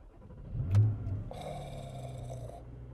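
A new Porsche Cayman GTS 4.0 starts up. A short crank is followed by the engine catching and settling into a steady, fairly close idle.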